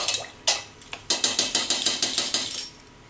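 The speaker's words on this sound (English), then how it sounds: "Okay, so I'm just going to whisk that in." A whisk beats vanilla into a creme caramel custard mixture in a bowl, making rapid, rhythmic metallic scraping and clinking strokes, close and fairly loud, with a brief pause early on before a steady run of strokes and no talking.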